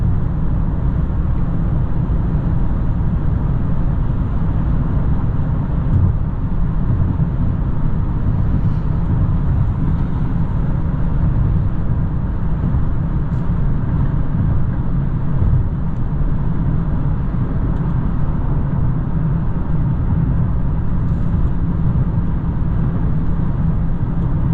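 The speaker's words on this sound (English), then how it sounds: "I'm just gonna be quiet so you can hear how this Maverick is on the highway." Cabin noise inside a 2022 Ford Maverick Lariat cruising on the highway: a steady, loud low rumble of road and tire noise with a constant engine drone and no talking.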